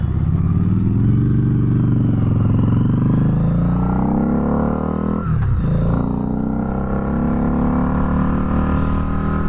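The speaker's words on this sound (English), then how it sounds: "on this one you really got to get used to revving it up a little bit higher" A loud Harley-Davidson V-Rod Night Rod Special motorcycle engine drones and rises in pitch, dips briefly as if shifting, then keeps revving steadily.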